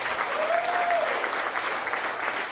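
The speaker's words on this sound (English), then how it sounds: "Can y'all give them a round of applause?" An audience at a political victory speech applauds steadily as a dense, continuous wash of clapping, with a short whistle-like tone near the start.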